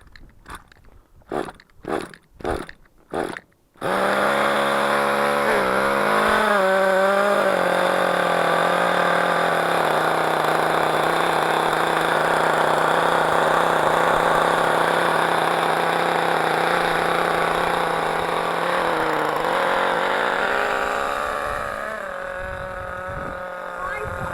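A nitro 4WD RC buggy's small engine starts after a few sharp pulls, then holds a loud, steady buzzing whine with slight pitch wobbles before easing off near the end, while people talk in the background.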